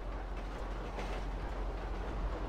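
Steady rumbling roar of a train in Grand Theft Auto V, a continuous broadband rush with faint rhythmic rail clatter, loud and close throughout with no talking.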